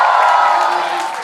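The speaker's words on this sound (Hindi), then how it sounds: "जोरदार तालियां" Live stage audience bursts into loud, sustained applause and cheering as a comedian is welcomed on, a dense crowd roar that holds steady then eases slightly over about a second.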